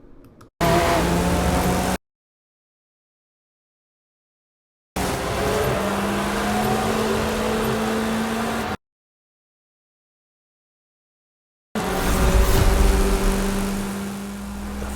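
A Lamborghini Centenario's engine roars in a racing video game, loud and sustained in three separate bursts with silent gaps between them.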